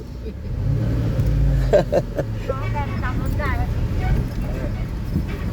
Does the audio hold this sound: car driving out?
yes